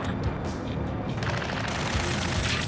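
Gunfire in Ace Combat 7 near a space elevator, with rapid bursts and booms packed into a dense, continuous battle roar that stays loud from start to finish.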